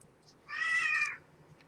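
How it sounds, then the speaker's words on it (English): A single clear cat meow, about three-quarters of a second long, close and moderately loud, set against faint low background hum during a sports card box break. "So, cat's meowing."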